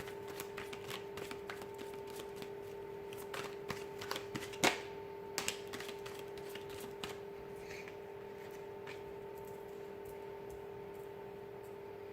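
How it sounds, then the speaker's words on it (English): Soft, close riffling and tapping of tarot cards being shuffled, in quick irregular bursts over a steady electrical hum, fading toward quiet. "So I'm going to go ahead and give the cards a shuffle here"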